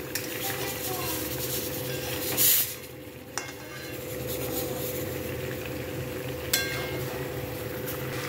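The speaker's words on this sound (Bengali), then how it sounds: "এবার আলুটা দিয়েও একটু কষাচ্ছি।" Potatoes frying in a pan as they are stirred into a spiced curry, a steady close sizzle with scraping strokes and a few sharper clinks of the utensil against the pan.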